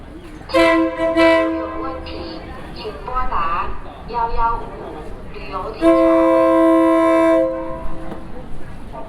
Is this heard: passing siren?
no